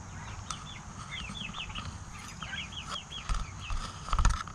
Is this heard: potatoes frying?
no